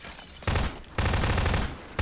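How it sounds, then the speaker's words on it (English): Explosions in the video game Prop Hunters come as three loud, rapid bursts of crackling blasts, close and harsh, with no talk over them. "That's a lot of explosions going on in here right now."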